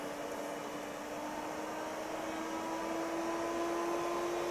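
Cooling fans inside a Carlsbro Powerline 800 amplifier on the test bench whir with a steady, moderately loud broadband rush and a constant hum tone running underneath, with no talk.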